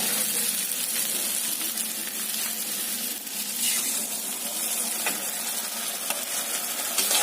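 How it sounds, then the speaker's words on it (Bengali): Brinjal, green chili and onion fry in oil with cumin paste, making a continuous dense sizzle with crackling texture and faint stirring scrapes, close and fairly even in level. "এই জিরে বাটা আমি ভালোভাবে এই বেগুনের সাথে কষিয়ে নেব"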